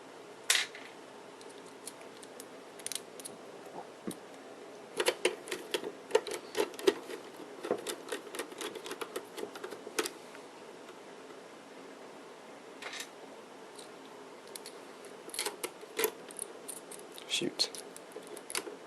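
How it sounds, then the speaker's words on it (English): Screws go into the rear I/O panel of a fan-less Logic Supply industrial computer: scattered small metallic clicks and ticks from a screwdriver, close and irregular, with quiet gaps and a faint room hum. "continue installing our rear I/O screws"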